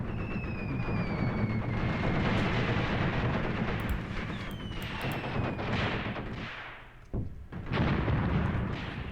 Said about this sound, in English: Trying to focus all fire on that vehicle.